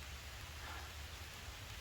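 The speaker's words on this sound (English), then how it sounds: "And here comes the rain." Rain falls steadily as a dense, even hiss, with no variation or distinct drops standing out over its whole length.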